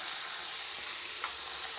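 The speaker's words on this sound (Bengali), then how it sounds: "এদিকে উচ্ছে ভাজাটাও প্রায় হয়ে যাচ্ছে" Sliced bitter gourd frying in oil in a pan, a continuous bright hiss and crackle of sizzling at close range with no voices.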